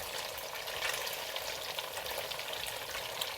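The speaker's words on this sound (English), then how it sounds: "We've been frying this for about 2 minutes or so." Steady, loud sizzling of egg tofu frying in hot oil, a dense continuous crackle close by with no voices.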